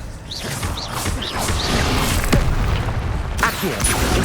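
Expelliarmus spell cast in Hogwarts Legacy, a booming magical blast with whooshing swishes and a sharp crack amid ongoing game combat effects, loud and close.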